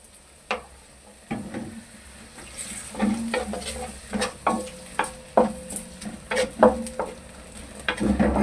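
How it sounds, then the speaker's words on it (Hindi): Diced onions frying in a pan as chicken kadhi is prepared, with soft sizzling under repeated scraping and stirring strokes that clink against the pan in an irregular rhythm, close by and without talk. "इसके साथ मैं डाल रहा हूँ प्याज, जो 2 अदद मैंने दरमियाने साइज के काटे चकोर। इसको करेंगे हम फ्राई।"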